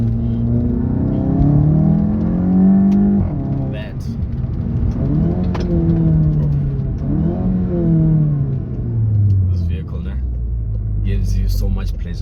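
A Volkswagen Golf 7.5 GTI drives along and accelerates, its engine rumbling and rising through several revs in a steady, close hum with road noise underneath, with a person speaking over it.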